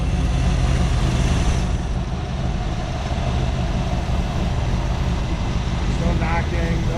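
A 1961 Chevrolet Corvette convertible engine runs steadily at a smooth idle, a loud and continuous rumble with no knocking or ticking.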